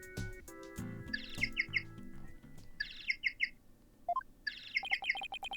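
A penguin-like phone ringtone in the Phoenix Wright: Ace Attorney – Dual Destinies video game chirps in repeated bursts of bright, bird-like tweets and squawks, cycling three times over a bouncy synthesized game melody.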